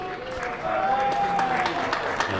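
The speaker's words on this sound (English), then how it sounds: "you can hear what the Somerset faithful think of that from the applause around the ground" Applause rises from Somerset supporters around the ground at a County Championship match against Glamorgan, a steady patter of clapping under a commentator's voice.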